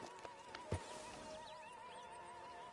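A horse in the Red Dead Redemption 2 video game gives a short whinny and snort, a brief sharp burst near the start over a quiet, steady game ambience with faint hoof sounds.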